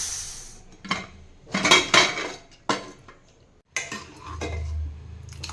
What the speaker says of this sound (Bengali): এবার আমি আপনাদেরকে খুলে দেখাচ্ছি ডালটা সিদ্ধ হয়েছে